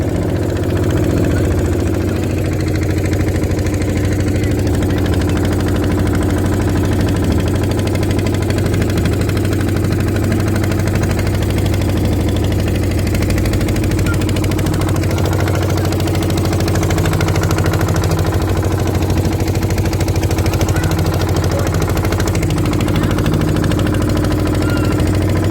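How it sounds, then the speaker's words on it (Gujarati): Boat engine running steadily at a river crossing on the way to Kabirvad near Bharuch, a loud continuous low drone with constant vibration throughout, no voices heard. "બોટ ચાલુ થઈ ગઈ છે"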